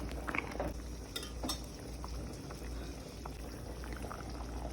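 Curry cooking in a pot over medium heat being mixed, a bubbling boil under soft scraping and sloshing of a spoon through the thick liquid, with a few light clinks early on, fairly quiet throughout.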